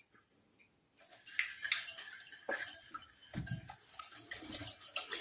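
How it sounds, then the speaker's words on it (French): Three eggs and sugar being mixed in a bowl, heard after a quiet second as a busy run of close clinks, taps and scraping from the utensil against the bowl. "Et là maintenant nous allons mélanger nos 3 œufs et notre sucre."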